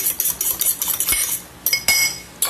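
A utensil stirs food in a pot, making repeated metallic scrapes and clinks in an uneven rhythm, close and fairly loud, with no voices.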